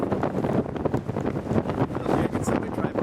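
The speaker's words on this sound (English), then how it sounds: "That's windy." Strong wind buffets the microphone in loud, continuous gusts, roaring and rumbling outdoors on a fell top with no pauses.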